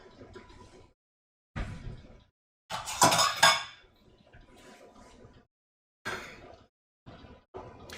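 A large pot on the stove being stirred, with metal utensil scrapes and clinks against the pot in short separate bursts, one louder clatter in the middle, close and without talk.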